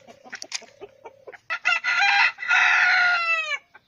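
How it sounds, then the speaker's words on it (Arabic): A sick rooster with swollen eyes and a cold, kept in a backyard flock, gives several short clucks and then one loud, drawn-out crow, close to the microphone. "هذا الديك الثاني المصاب"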